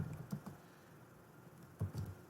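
A terminal command typed on a computer keyboard: a few quick, soft key taps in two short bursts, close and quiet, with no talk.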